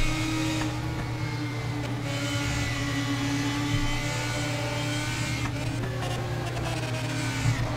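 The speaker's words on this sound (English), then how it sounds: "Sounds like a double shift down there. It's very, very bad to the engine." A Radical SR3 race car engine in the rFactor 2 racing game at the Red Bull Ring, a steady high-pitched whine with brief changes in pitch, as on a downshift, heard alone.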